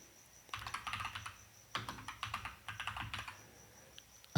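Typing on a computer keyboard while entering a Google Sheets formula: quick, light clicking key presses in two bursts separated by a short pause, close and fairly quiet, with no voice.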